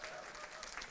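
An audience at a book awards ceremony claps in steady, dense applause throughout, moderately loud and filling the room, with no distinct voices standing out.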